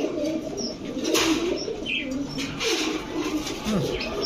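Pigeons flap their wings in bursts and coo softly nearby, with a faint voice in the background.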